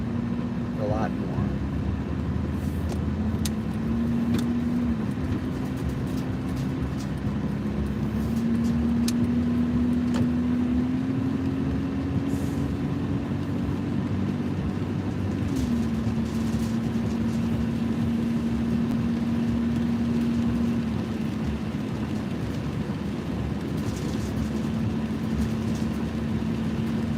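A car drives steadily with a continuous engine drone and road rumble from inside the cabin, a low hum holding throughout while a person talks over it.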